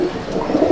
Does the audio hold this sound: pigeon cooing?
yes